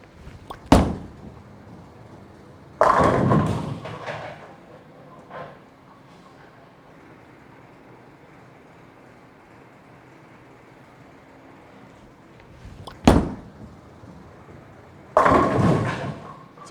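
Bowling balls rolling down the lane and crashing into the pins, four separate impacts with quiet rumbling between them, heard from a moderate distance.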